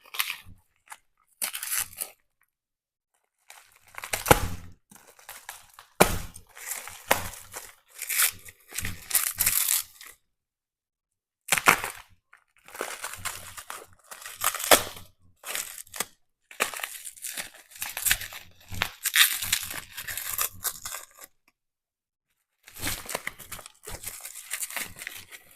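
Taped bubble wrap packaging being pulled and cut open around the base of an artificial tree pot, giving bursts of crinkling, tearing and crunching with short pauses between them.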